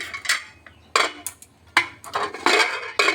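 A spoon stirs ghee and spices in a metal pot, producing several sharp scraping and clinking strokes in irregular bursts with brief quiet gaps, close up and with no speech.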